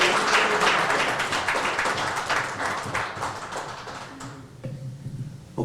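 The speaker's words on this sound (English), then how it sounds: "give him one more round of applause" A crowd at a Harrisburg School District athletes' signing day gives a round of applause: dense, steady clapping that gradually thins and fades toward the end, with a few louder claps near the close.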